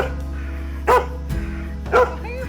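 A greyhound barks twice indoors, two sharp, close barks about a second apart with a low huff between them.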